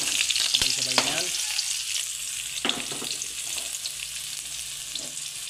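Ricado aromatics fry in hot cooking oil with a steady, loud sizzle and crackle, broken by a few sharp clinks of a utensil stirring the pan.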